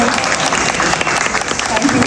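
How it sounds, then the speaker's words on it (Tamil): Audience applause at a meet-and-greet event in Dubai: a dense, steady wash of clapping from a crowd that fills the whole stretch at a loud level, with voices mixed in. "தமிழ் மக்கள் சார்பாக ஒரு பெரிய கைத்தட்டல் கொடுத்துடலாமா வேணுங்க?"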